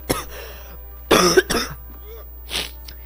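A man with a cold coughs a few times close up, with throat-clearing sounds and brief quiet gaps between the coughs.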